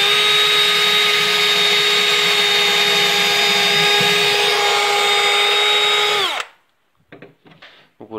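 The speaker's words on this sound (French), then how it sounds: "j'ai juste percé mes trous, fraisé, et je vais en visser deux" A power drill boring holes runs at a loud, steady high whine for about six seconds, then winds down and stops, followed by a few faint handling knocks.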